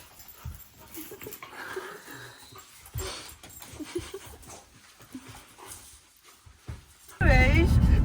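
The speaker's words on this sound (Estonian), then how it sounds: "koju jõudes väiksed koeratirud" Small puppies whimper, yip and pant in short, uneven bursts close by, with people talking over them and a sudden loud rushing noise at the end.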